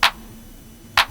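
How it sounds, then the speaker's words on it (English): Two Roland 909 drum machine claps, one at the start and one about a second later, sharp and bright with short decays over a faint background hum. "I added some 909 claps."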